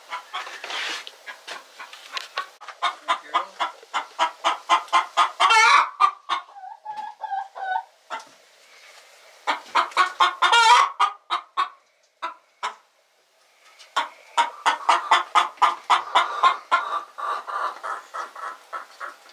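A broody hen clucks around a nesting box, repeating rapid, loud runs of close clucks with short pauses and a few longer squawks between bursts.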